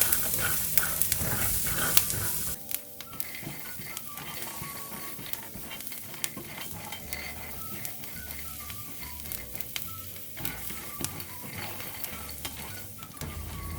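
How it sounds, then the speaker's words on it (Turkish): Almonds roasting in a dry, oil-free pan while being stirred for aşure, producing a steady close sizzling rustle with scraping and clattering of nuts against the pan. "Bademlerimizi kavuruyoruz yağsız bir tavaya aldık."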